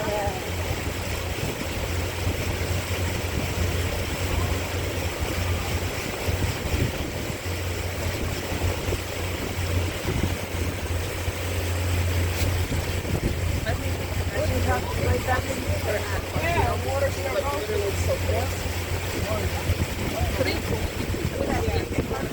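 Steady motorboat engine drone and water wash during a relaxing ride on Lake Quassy at a Connecticut amusement park, continuous and close, with people talking now and then over it.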